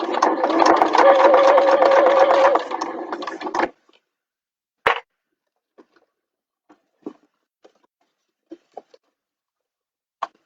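A sewing machine runs steadily around the edge of a bag for a few seconds, then stops. Scattered soft clicks and taps follow in near silence.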